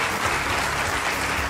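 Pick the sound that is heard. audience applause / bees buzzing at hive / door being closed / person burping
audience applause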